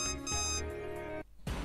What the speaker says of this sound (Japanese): 警戒警報